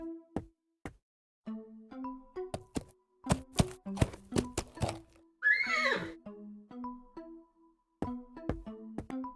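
A horse in the Willy Morgan video game neighs loudly in one long, rising-and-falling whinny mid-clip, set among sharp synthetic taps and short tonal game blips before and after.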